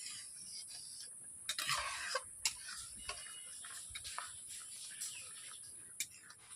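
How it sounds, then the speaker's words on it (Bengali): Metal spatula stirring paneer in a pan with sugar and cardamom powder, a series of light scraping ticks and clinks spaced irregularly, close but faint against a steady background hiss. "এইভাবে আমি খুন্তি দিয়ে নেড়ে নিচ্ছি।"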